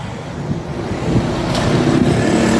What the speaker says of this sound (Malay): bunyi bising datang daripada kenderaan yang lalu lalang dekat sebelah tu